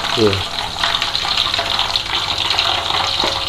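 Banana chips fry in a large amount of hot oil over a strong flame, a steady loud crackling sizzle that runs throughout, with a brief voice near the start.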